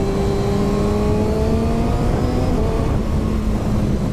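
A 2020 Kawasaki Ninja 636 motorcycle with an active exhaust revs hard, a loud, steady engine note that climbs and holds with a gritty, continuous drone.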